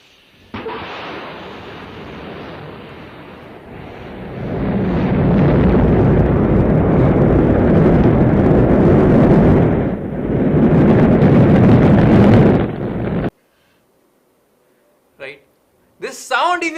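A rocket launch gives a loud, sustained roar that starts abruptly, swells to a thundering peak, briefly dips, then cuts off, followed by a few faint knocks.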